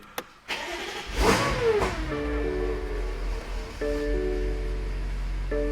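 A BMW F90 M5 engine cranks and fires after an oil change, catching with a sharp rev flare that settles into a steady, loud idle with faint tonal whines.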